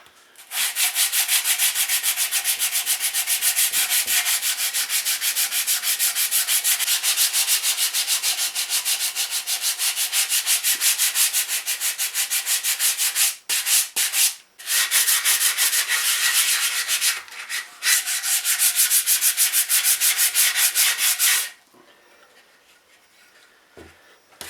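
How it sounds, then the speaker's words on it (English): Fine 240-grit sandpaper rubbing over a wooden guitar part in steady, rapid back-and-forth strokes, loud and close, with two brief pauses near the end before stopping; no talking. "give this a quick clean up with some fine sandpaper now, just to get the dirt off it, get all these pencil lines off it"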